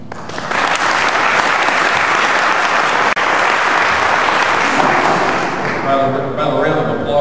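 A debate audience for an Arkansas state senate district race breaks into a loud, sustained round of applause that fills the room for several seconds before thinning out, with a brief voice emerging near the end.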